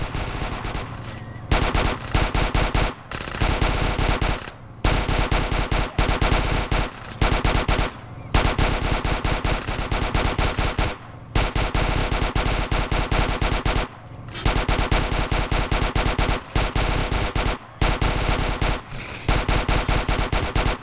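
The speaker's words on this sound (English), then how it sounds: "Why am I being shot now, actually?" Sustained machine gun fire in the video game GTA San Andreas with a chaos mod, dense loud rapid bursts separated by brief gaps, heard alone without speech.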